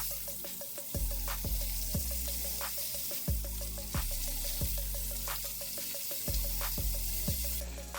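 Thick blackened salmon fillet searing in a hot pan gives a steady, fine sizzle, with a faint repeating low knock running evenly underneath.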